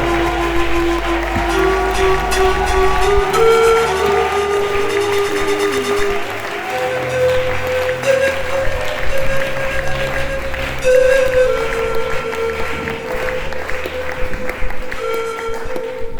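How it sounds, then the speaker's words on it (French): Congregation clapping and cheering at a Sunday church service, loud and sustained throughout, blended with steady musical tones. "allons acclamer encore avec des acclamations nourries"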